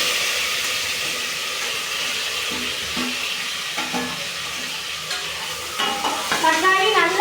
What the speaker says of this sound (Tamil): தக்காளி பல்லாரி போடுங்க.